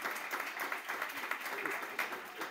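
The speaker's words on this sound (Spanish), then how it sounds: "que se lleve un aplauso fuerte de Morelia" A lecture audience in Morelia claps for a doctor's talk, a continuous, fairly faint spread of many hands clapping at once.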